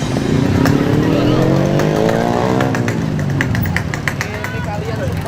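Motorcycles with loud modified exhaust (knalpot brong) rev and roar nearby, a rising engine whine over rattling exhaust, with a crowd murmuring beneath throughout.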